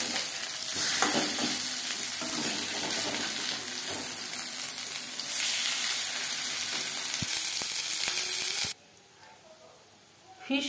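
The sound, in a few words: fish fry frying in oil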